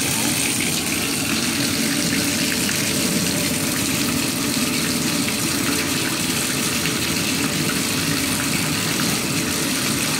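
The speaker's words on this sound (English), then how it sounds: "I'm gonna go ahead and turn on the water and crumble this." Tap water runs steadily into a bathtub as a crumbled bubble bar dissolves under the stream, giving a constant, fairly loud gushing hiss that continues without a break.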